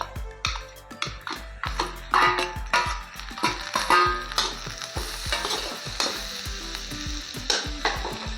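Okra and fried potatoes cook in a pan over a medium gas flame, with a close, lively sizzle punctuated by a steady run of sharp spatula clacks and scrapes as the mixture is stirred.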